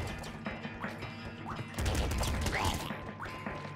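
Pop gun firing in the game Nuclear Throne, a rapid scatter of small cracking shots with busy in-game battle noise throughout, fairly steady and dense rather than isolated bangs.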